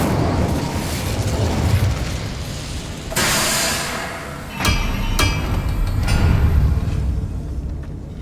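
Incendio fire spell cast in Hogwarts Legacy: loud whooshing, crackling bursts of flame with sharp booming impacts and a rumbling low roar, several distinct blasts across the stretch with continuous game sound between.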